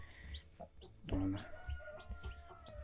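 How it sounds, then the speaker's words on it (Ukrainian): Soft clucks and chirps from young chicks at close range, scattered in short bursts with a brief louder squawk partway through. "І там ще є два курчатка"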